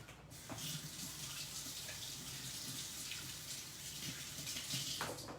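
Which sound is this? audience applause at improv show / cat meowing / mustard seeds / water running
water running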